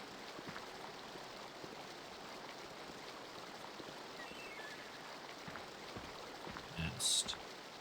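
Steady rushing waterfall from a scene in the video game The Dig, a continuous broadband wash of flowing water with a brief louder splash or chime near the end.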